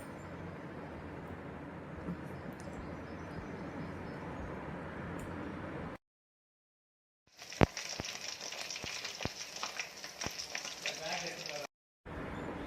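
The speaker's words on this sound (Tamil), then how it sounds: "அரை மணி நேரம் கழித்து எடுத்து நம்ம இப்போ பொரிச்சிக்கலாம்." Prawns fry in hot oil for biryani, giving a soft steady sizzle that breaks off into silence, then comes back brighter with sharp crackles and pops from close by.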